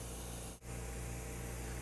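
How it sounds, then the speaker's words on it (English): M-Vac sampling head fanning out a solution spray, a steady loud hiss with a brief dip in the middle before the spray resumes evenly. "the solution spray actually comes out in a fan"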